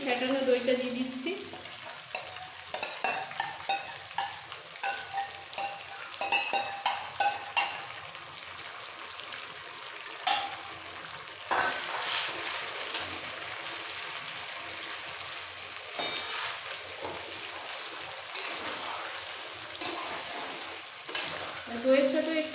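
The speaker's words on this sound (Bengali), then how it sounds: "দইয়ের সাথে একটু কষিয়ে নেব।" Chicken curry sautés in a pan with whisked sour yogurt, giving a steady sizzle broken by repeated scraping stirs, close and moderately loud, with no talking.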